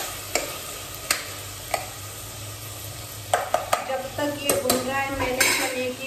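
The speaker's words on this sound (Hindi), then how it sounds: "और इसको मैं 2-5 मिनट तक भूनती हूँ। 2-5 मिनट आप इसको मीडियम गैस पे भूनेंगे।" Onions and spices roast in a pan over a medium gas flame, giving a soft steady sizzle broken by sharp clicks and scrapes of a spoon stirring against the metal, louder and busier toward the end.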